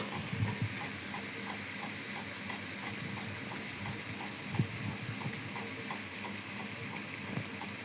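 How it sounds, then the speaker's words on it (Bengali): A spatula stirs chicken gravy with tomato, ginger-garlic and cumin paste in a kadai, making steady soft sizzling with faint repeated scraping strokes and an occasional louder knock, close and fairly quiet with no talking. "ওই কড়াইয়ের মধ্যেই খুন্তি দিয়ে ওটাকে ভালোভাবে গ্রেভি করিয়ে দেব"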